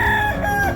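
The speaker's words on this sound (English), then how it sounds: "Hi, Rogue Rooster." A rooster on a homestead crows loudly and close by in one short, sustained call.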